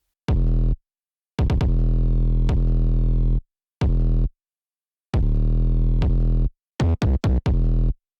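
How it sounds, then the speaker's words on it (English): An 808 sub bass pattern in a hybrid trap beat: deep, booming bass notes in bursts of varying length with silent gaps, ending in a quick run of short stabs, loud and alone. "Then you just make a sub pattern and it should sound something like this."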